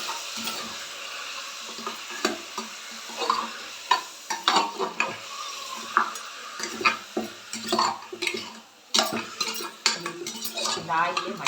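Washed mutton dropped into hot oil in a pressure cooker sizzles close and steadily beneath frequent clatters and scrapes of a metal spoon against the pot, with no speech.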